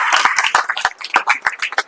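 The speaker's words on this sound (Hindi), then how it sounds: "चलिए एक बार ताली बजाइए सर को लिए।" A small group claps for a teacher at a coaching centre, brisk and close, the uneven hand claps running for under two seconds.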